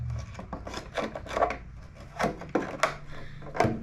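A dull body reamer rasps and scrapes as it enlarges a hole, coming in short, irregular grinding strokes of varying loudness, close up with no talking.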